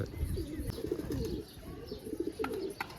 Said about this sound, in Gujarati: જોવો તમે કબૂતર જોવો ખાલી